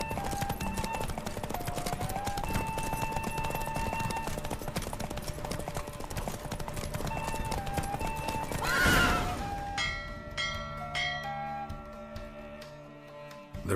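Roach, the horse in The Witcher 3, races with rapid clip-clop hoofbeats and a loud whinny midway, backed by game music, before the hoofbeats fade out.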